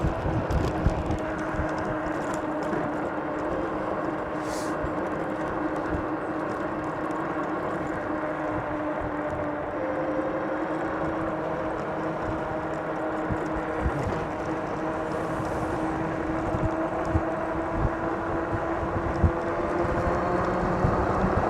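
A Ridstar Q20 RC boat runs at throttle, its motor giving a steady, continuous whine with a windy, watery rush. The sound stays at an even level throughout, with no voices.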